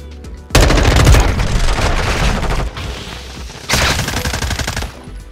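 Rapid automatic gunfire from a Call of Duty Modern Warfare 2 console match, two loud sustained bursts of close firing separated by a short lull, dense and crackling with heavy low-end thump.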